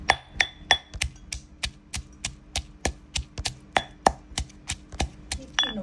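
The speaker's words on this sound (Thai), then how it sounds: "ก็ตำหยาบๆแล้วเดี๋ยวค่อยมาใส่ผสมกันค่ะ" Chinda chilies pounded coarsely in a mortar with a pestle, a steady run of about eighteen sharp, close thuds at an even rhythm, with no voices.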